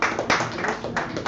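Audience at an open mic in a San Francisco cafe gives brief scattered clapping, a few sharp claps close by mixed with light chatter.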